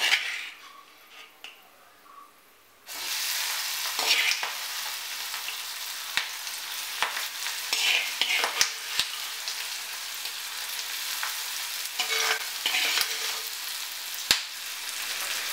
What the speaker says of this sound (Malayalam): ഇനി പുരട్ടി വെച്ചിരിക്കുന്ന കക്ക അരച്ചി ചേർക്കാം.